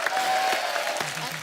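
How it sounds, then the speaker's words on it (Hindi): A studio audience on the Kapil Sharma Show gives a dense, steady round of loud applause, with a sustained tone briefly audible beneath it. "जोरदार ताली"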